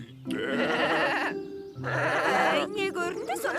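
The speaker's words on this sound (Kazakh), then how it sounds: "Не көрінді сонша маңырап?" A sheep or goat bleats loudly and close by. Several drawn-out, wavering calls come in two main bursts with a short pause between them, then a brief quavering tail.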